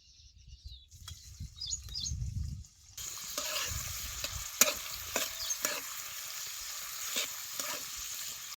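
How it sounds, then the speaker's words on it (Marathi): Chopped onion drops into hot oil with mustard seeds and cumin, and a loud sizzle then sets in steadily, broken by sharp spatula stirs and scrapes against the pan. "तेलात कांदा चांगला भाजून घ्यायचा."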